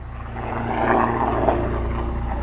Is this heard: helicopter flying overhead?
yes